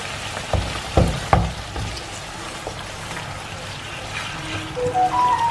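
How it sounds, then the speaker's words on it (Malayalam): Boiled water poured into a potato capsicum curry in a hot pan sets off a soft hiss and bubbling sizzle, with a few sharp clatters early on. "നമ്മൾ വെള്ളം ചൂടാക്കിയതില്ലേ അത് ഇതിൽ ഒഴിച്ചു കൊടുക്കാം."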